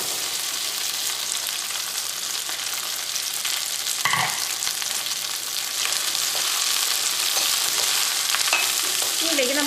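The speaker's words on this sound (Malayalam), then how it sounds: "നമ്മുടെ എണ്ണ നന്നായിട്ട് ചൂടായിട്ട് ഇതിലേക്ക് നമുക്ക് വെണ്ടക്കായ ഇടാം." Okra fries in hot oil in a pan, a loud, steady, close sizzling hiss throughout, broken by a single clink of a utensil midway.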